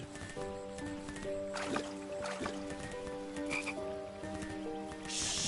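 Frogs croak in the video game King's Quest, several throaty calls overlapping in a steady chorus with faint water sloshing nearby and a louder rush at the end.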